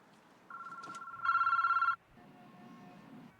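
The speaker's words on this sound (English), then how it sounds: "The phone is ringing now, Sikes." A telephone rings inside a surveillance setup on a tapped phone line, with a steady electronic tone followed by a louder, brighter ring, then a pause before it starts again.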